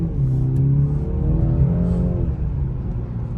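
A BMW 330i (G20) drives in rush hour traffic, heard from inside as a low steady engine and road drone with a rising then falling engine tone, fairly loud and close.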